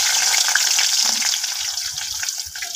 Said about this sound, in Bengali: আমি এখন দিয়ে দিব পেঁয়াজ।